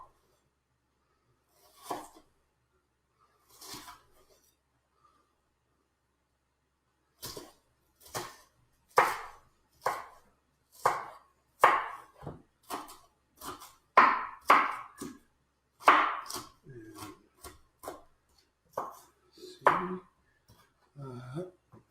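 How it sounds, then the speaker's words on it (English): Knife slicing a halved, peeled shallot into thin strips on a cutting board: a few isolated taps, a pause, then a long run of crisp, close chops in a steady, slightly uneven rhythm. "Half and peel the shallot, slice halves into thin strips."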